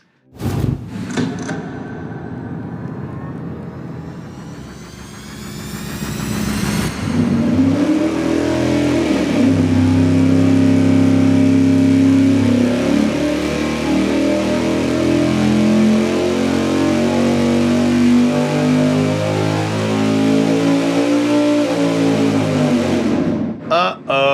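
A big-block V8 fitted with an Edelbrock Super Victor 2 intake manifold roars on an engine dyno, climbing from idle into a long, loud sustained wide-open pull before cutting off abruptly.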